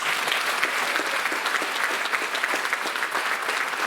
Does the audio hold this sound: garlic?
no